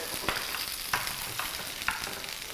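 An egg fries in a pan with a continuous soft sizzle, close and steady, punctuated by four brief crackling pops or utensil taps at roughly even intervals; no talking.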